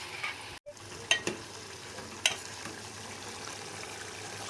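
A spoon or ladle scrapes and stirs village-style chicken curry in a pan over a soft steady sizzle, with a few sharp clinks against the pan.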